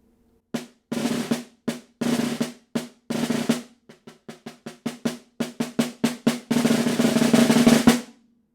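A snare drum plays the last line of an etude with buzz rolls, a run of sharp strokes in uneven rhythm broken by sustained buzzed rolls, with a longer buzz near the end, close and solo.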